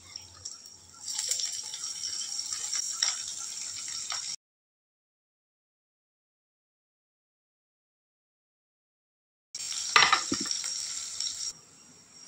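Potatoes fry with cumin seeds and green chili in a pan, a steady sizzle with stirring for about four seconds, then a long silence before the frying resumes loudly with a sharp clatter.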